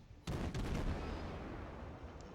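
Enemy warship gunfire in World of Warships aimed at a Tier 3 Russian destroyer, the Derzki: a sudden loud burst of heavy naval cannon fire followed by a sustained rumbling barrage with scattered booms.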